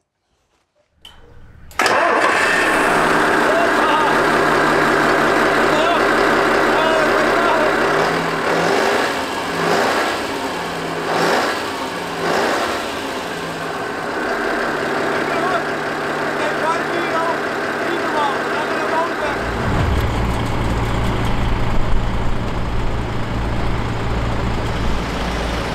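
A DAF XF105 truck's V8 engine cranks and fires up loudly, then settles into a deep, steady idle with a rumbling low tone, close by, while people talk briefly over it.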